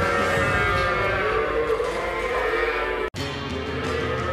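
Calves low and moo inside a stall, a few drawn-out, moderately near calls over a steady background murmur, with a brief drop to silence near the end.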